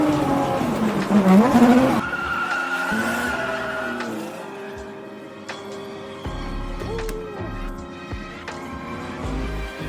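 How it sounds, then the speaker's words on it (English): A car drifts around the track at Western Speedway on Vancouver Island, with engine roar rising and falling and long squealing tire skids, loud and fairly close, with a crowd murmuring in the background. "Drifting."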